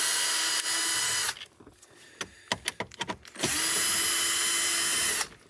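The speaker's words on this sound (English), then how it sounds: "we have to take the AC controls out using a 7mm socket or a Phillips head screwdriver" A power screwdriver whirs in two sustained, loud runs while removing the AC control screws from a Chevrolet Impala dash, separated by a short burst of clicks and handling knocks.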